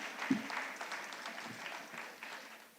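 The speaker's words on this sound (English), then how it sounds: "A big round of applause to all the PhD graduates." Soft, distant applause from a graduation ceremony crowd, a steady patter of clapping throughout, fairly faint.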